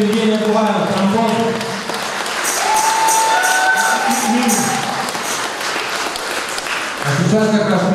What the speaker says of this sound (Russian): Специально аплодисменты Евгения Куваева, тромбон.